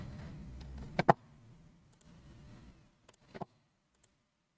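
A couple of sharp computer mouse clicks while working in Fusion 360 CAD software, a quick double click near the start and a softer pair a few seconds later, close and quiet in an otherwise still room.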